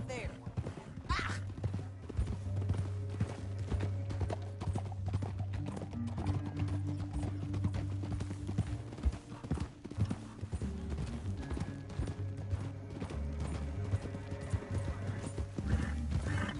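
Rhythmic hoofbeats of horses clip-clopping at a fast pace in Red Dead Redemption 2, with a steady music-like drone and occasional voices underneath.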